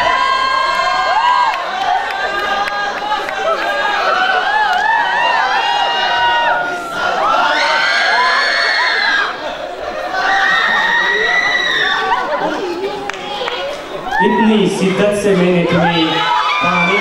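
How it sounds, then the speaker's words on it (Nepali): A crowd at a Miss Everest pageant cheers loudly to welcome a speaker, with whoops, shouts and laughter rising and falling in a continuous roar. "उहाँलाई जोरदार तालीले स्वागत गरौँ"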